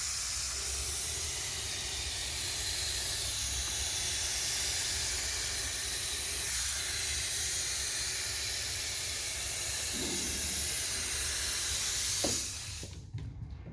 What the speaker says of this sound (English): spray the activator